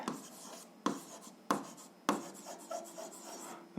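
A pen writes on paper while an algebra equation is worked out: a soft, steady scratching that comes in short strokes, with several sharper taps where the pen touches down, close and quiet, with no voice.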